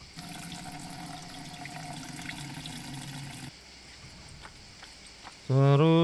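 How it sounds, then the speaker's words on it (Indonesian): Water running steadily in the farming video game Everdream Valley as crops get watered, a continuous splashing wash that stops abruptly, followed by quiet background and a bright game chime at the end. "Oke, kita siram tanamannya terlebih dahulu."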